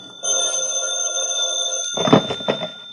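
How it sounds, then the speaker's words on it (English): An old telephone bell rings continuously for about two seconds, close and clear, then cuts off into a couple of soft clunks like a handset being picked up. "The phone woke me up."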